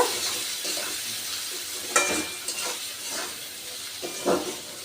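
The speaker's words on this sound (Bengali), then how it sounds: "আবারও আমি পেঁয়াজ রসুনের সাথে ভালো করে মিশিয়ে নেব" Onion and garlic with turmeric and salt being stirred in oil in a pan: a soft, continuous sizzle broken by scraping spoon strokes and light clinks of utensil on metal, close by, no talking.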